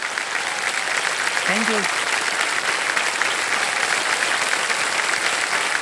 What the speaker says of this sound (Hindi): हम चाहेंगे कि सारी जनता ताली बजाए इनके लिए